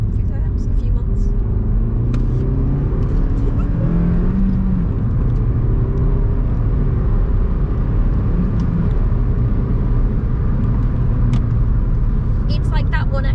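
Engine drone and road rumble from inside a moving 2022 Suzuki Swift Sport hybrid hatchback with manual gearbox, steady and close, with a voice talking over it and occasional light clicks.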